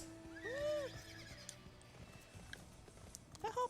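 A high-tech horse mount in the Final Fantasy XIV game lets out a loud, clear whinny with a rising-then-falling pitch early on, followed by quieter game sounds and a brief chirpy flourish near the end.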